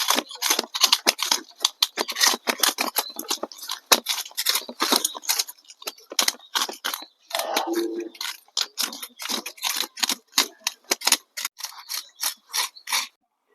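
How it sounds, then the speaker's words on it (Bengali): A knife scrapes scales off a live katla fish in quick repeated rasping strokes, close and crisp, with brief pauses between bursts and no talking. "আঁশটা ছাড়িয়ে নিচ্ছি।"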